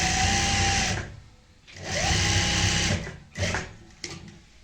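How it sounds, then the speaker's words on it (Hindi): A sewing machine runs a straight seam through fabric in two steady whirring stretches, followed by a few shorter bursts and stops, close up with no talking. "इसमें भी हम इसी तरीके से यहाँ पे सीधी सिलाई लगा लेंगे"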